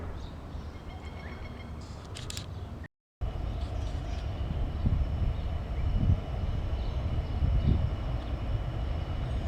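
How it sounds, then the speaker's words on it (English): A Pacific National freight container train passes a passenger train approaching Bundaberg, a steady low rumble and rolling clatter that continues throughout after a short break near the start. "Obviously a container train or something out of the freight."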